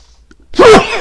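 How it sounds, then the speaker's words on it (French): A single sharp human sneeze, close and loud, bursting suddenly after a brief quiet intake of breath. "Je vais éternuer."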